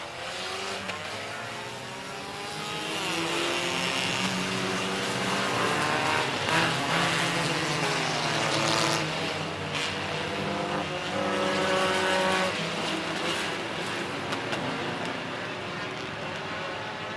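Several race cars pull away after the green flag at a Fall Fury race, engines swelling into a loud, sustained roar with rising and falling revs throughout, and no talking.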